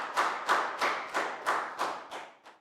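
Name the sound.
applause for the class after a game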